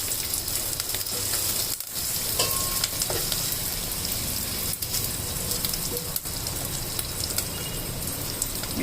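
Mint, curry leaves and fenugreek leaves fry in hot oil, giving a dense, steady crackling sizzle like heavy rain, loud and close, with a few brief stirring knocks and no voices.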